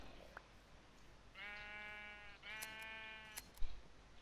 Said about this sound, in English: Hey, more sheep. Lots more sheep.